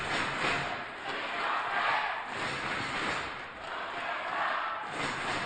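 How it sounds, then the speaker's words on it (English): A badminton arena crowd at the 2010 Korea Open men's doubles final chants a player's name in loud, rhythmic waves during the deciding game, with no talking over it. "the crowd chanting LeeYongDae's name"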